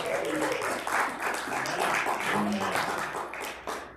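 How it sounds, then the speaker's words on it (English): A church congregation claps in praise: a brief, busy patter of many hands lasting a few seconds, with voices mixed in underneath. "Give him a hand clap of praise."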